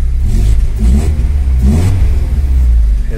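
A Volkswagen Parati engine idles at about 960 RPM, a loud, close, steady low rumble with slight rhythmic pulsing and no voices.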